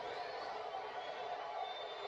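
Steady crowd noise from a football video game broadcast, a constant broad roar of massed voices with faint cheering, with no announcer or other voices on top.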